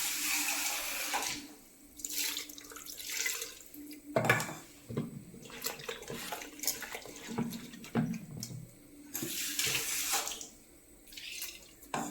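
Water runs steadily from a tap, splashing into a sink with a few louder gushes and pauses, fairly close by.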